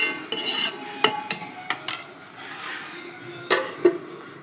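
Metal cookware on a home stove, where a lid goes onto a pot of prawn tomato curry on low flame, gives a scattered series of faint clinks, taps and scrapes with quiet pauses between them.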